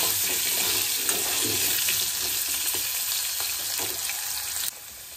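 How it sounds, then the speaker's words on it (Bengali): Potato pieces, cut to size, frying in hot oil alongside dried red chillies, giving a steady close broadband sizzle with occasional stirring clicks throughout, no voices. "দিয়ে ভালো করে ভেজে নেব, একটু লাল করে ভেজে নেব।"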